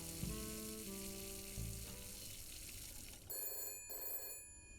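Telephone ringing inside the detective game Shadows of Doubt at night, tonal bell-like ringing tones over a low steady background hum, the ring pattern starting and stopping in short bursts toward the end.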